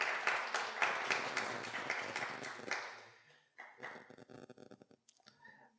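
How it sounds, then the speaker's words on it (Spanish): An audience at a human rights magazine presentation claps for the moderator, a brief burst of applause that fades after a few seconds into scattered taps and quiet background sounds. "Un aplauso, por favor."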